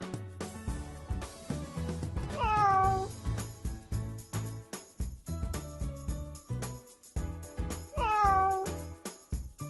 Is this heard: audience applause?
no